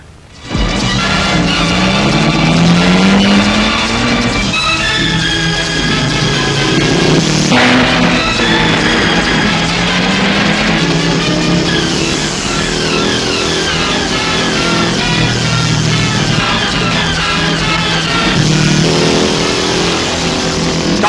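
A car engine revs and drives hard for a sustained stretch, loud and continuous with shifting pitch from acceleration, mixed with dramatic film sound.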